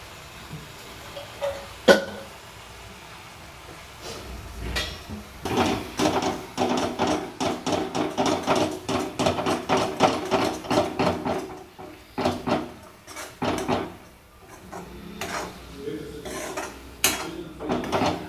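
Coconut halwa stirred in a pan, a spoon scraping and knocking in uneven bursts of clatter and scraping, close and moderately loud, with faint voices in the background.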